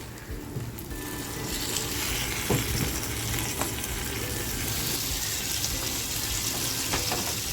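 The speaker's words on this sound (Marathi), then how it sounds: "मंद गॅसवर ठेवून देते मच्छीसुद्धा बघा आपली छान अशी दोन्ही बाजूनी फ्राय झाली आहे" Ravas fish fries in a pan on low gas beside a tomato masala, giving a steady, close, dense sizzle that runs unbroken throughout, with faint scattered crackles and no voices.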